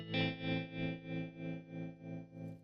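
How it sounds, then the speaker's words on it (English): A DIY Flick pedal's tremolo in sine-wave mode gives a sustained guitar chord smooth, rounded volume swells at a steady rate, about eight pulses, loud and upfront, slowly fading. "You can hear the sine wave is more smooth."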